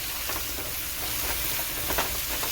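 Squash casserole cooks down in a pan with a continuous moderate sizzle and soft stirring scrapes, steady and close, with no voices.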